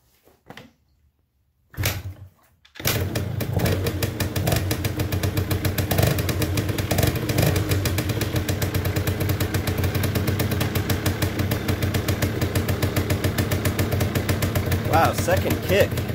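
A 1979 Yamaha DT175 motorcycle is kick-started, with a couple of clunking kicks before the two-stroke engine catches and keeps running loudly up close with a rapid pulsing beat and occasional revs, while someone talks over it.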